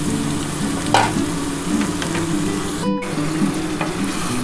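Goat meat with potatoes frying in a pan sizzles loudly and steadily as water is poured in, with occasional stirring scrapes and a brief sharp break in the hiss partway through.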